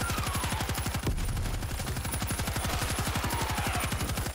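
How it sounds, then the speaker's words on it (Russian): Rapid automatic gunfire in the zombie shooter World War Z, a dense unbroken burst of evenly spaced shots with a sharper blast about a second in, loud and close. "Выстрел."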